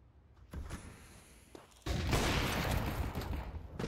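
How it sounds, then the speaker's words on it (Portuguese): Gunfire in a competitive esports video game match: a sharp shot, a brief quieter pause, then a dense, sustained burst of rapid firing that stays loud to the end. "o Hells erra o tiro ali, o primeiro tiro no meio"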